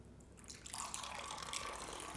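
Tea pours from a teapot into a cup, a faint trickle that turns into a steady splashing stream partway through and keeps running to the end.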